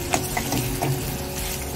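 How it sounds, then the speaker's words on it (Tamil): Long-sliced onions fry in a pan for egg masala roast, a steady close sizzle with a few soft stirring clinks and scrapes, no voices. "இப்போ வெங்காயம் எல்லாம் பொன்னிறாக வச்சு நல்லா ஃப்ரை பண்ணிக்கோங்க."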